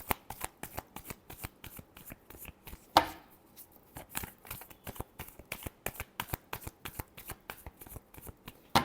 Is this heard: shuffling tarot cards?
yes